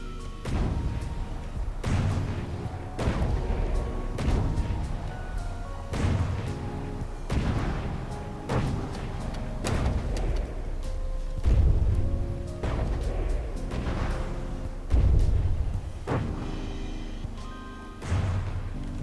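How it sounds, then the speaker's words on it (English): High-explosive cannon shells fire repeatedly in From The Depths, a run of heavy booms and thuds about every second or so, each with a short rumbling tail, loud and close with no talking. "Let's try this full high explosive shell."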